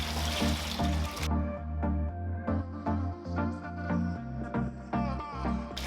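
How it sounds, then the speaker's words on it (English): Water runs into a bucket of aquarium sand and overflows, a loud steady gushing with bubbly splashing and a sharp burst at the start, close and continuous. "the water will just overflow out of the bucket"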